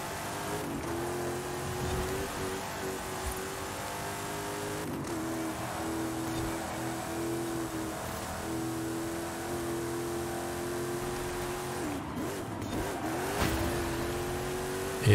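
A pickup truck drives in Forza Horizon 5 with a steady engine drone that swells and dips as it revs through turns, with brief tire noise, continuous and fairly close throughout.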